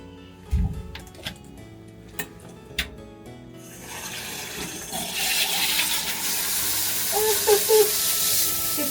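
Running water from a tap splashes steadily as a hair fringe is wetted before cutting, a continuous broadband rush building after a few seconds of soft clicks and handling sounds, with no talking.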